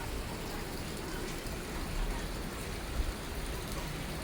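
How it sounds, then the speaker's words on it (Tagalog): Light rain falls steadily with a soft, even hiss ahead of a typhoon in Taiwan, quiet and continuous, with no voices. "Maliit lang yung ulan."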